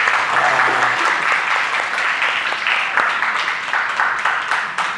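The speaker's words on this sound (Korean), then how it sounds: "박수로 환영하도록 하겠습니다" A church congregation applauds to welcome a guest during a Sunday service, a continuous, even round of clapping from many hands that fills the whole clip without letting up.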